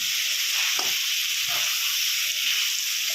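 Chicken with Kashmiri chilli powder stirred in a frying pan in a home kitchen: a steady, loud oil sizzle hisses throughout, with faint stirring scrapes beneath it.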